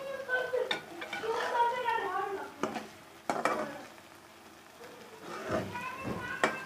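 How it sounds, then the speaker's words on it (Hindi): Eggs for a spring onion omelette fry in a pan with a soft, steady sizzle, while a spoon scrapes and stirs in short strokes, all under ongoing talk. "और अब इसी तरह हम दो तीन मिनट इसको कर लेंगे हल्का हल्का सा फ्राई"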